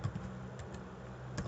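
Quiet, close typing on a computer keyboard: a handful of light, irregular key clicks, alone without talk.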